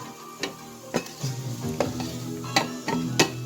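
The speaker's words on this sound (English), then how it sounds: "The onions are still browning." Onions brown in a pan with a steady low sizzle, punctuated by several sharp clacks of a utensil stirring and tapping against the pan at close range.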